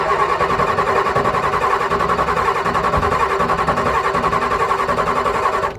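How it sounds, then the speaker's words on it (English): A Ford 6.9/7.3 IDI diesel engine being cranked outdoors in freezing cold, a loud, steady rhythmic starter churn running continuously for several seconds without catching, then cutting off at the end. "you want to crank on that thing until it's pushing fuel out of that Schrader valve"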